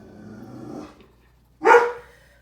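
A pet dog gives a low growl, then a single loud, close bark after a brief pause.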